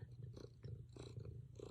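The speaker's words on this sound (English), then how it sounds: "Listen to him. He's purring." Loki the cat purrs close up, a soft, low rumbling that pulses rhythmically with each breath in and out, steady and quiet with no talking.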